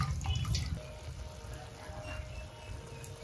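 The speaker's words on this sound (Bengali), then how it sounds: "আর একবার ধুয়ে দিই" Water runs and splashes steadily in a sink as fresh coriander and vegetables are rinsed, a soft, continuous trickle with a few louder splashes at the start, faint and close in a home kitchen.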